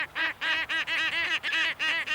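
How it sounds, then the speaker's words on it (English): A big brown skua, a noisy gull of Antarctica, calls in a rapid series of harsh, nasal squawks, about eight in quick rhythm, loud and close with no talk. "It's the skua, basically a big, brown, noisy gull."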